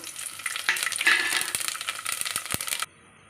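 Spices drop into hot oil and ghee for a chicken biryani and fry with a loud, crackling sizzle, with sharp pops and scrapes throughout, before the sound cuts off abruptly near the end.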